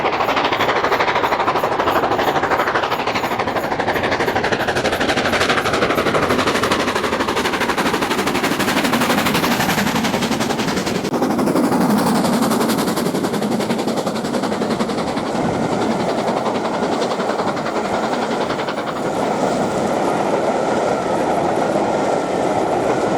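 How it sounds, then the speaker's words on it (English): LMS Black 5 steam locomotive 44932 working a Paddington to Plymouth railtour into Dainton Tunnel, with a Class 47 diesel banking at the rear; a loud, sustained rumble and clatter of the train runs continuously throughout, close and steady. "we see LMS Black 5 44932 enter Dainton Tunnel with the Paddington to Plymouth section of the tour"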